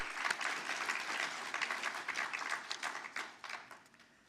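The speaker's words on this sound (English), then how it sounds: "So I would like to extend another round of applause to your loved ones." Applause rises from a graduation ceremony crowd for the graduates' families and loved ones. The clapping is dense and lively, with a warm hall ambience, then thins and fades toward the end, and no talking can be heard over it.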